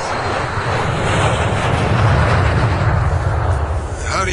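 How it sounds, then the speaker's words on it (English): Aircraft engines roaring as planes pass overhead near Heathrow in a horror radio drama, a loud sustained low rumble swelling and fading, with voices speaking over it. "That! The planes! Don't you hear them?"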